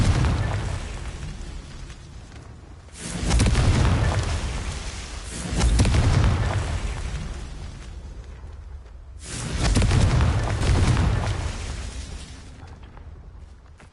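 Three loud, booming blasts of the Confringo fire spell erupt in the Hogwarts Legacy video game, each swelling then fading over a couple of seconds with a low rumble, spaced a few seconds apart.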